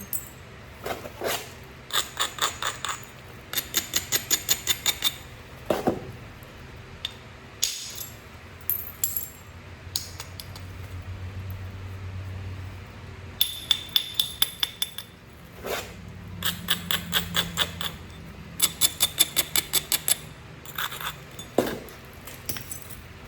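Sharp stone-on-stone chipping while knapping a stone dagger, delivered in quick clustered bursts of bright clicks with short pauses between, close and alone without talk.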